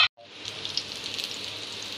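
Hot oil crackles and sizzles steadily after a brief clink, a dense hissing spatter close by.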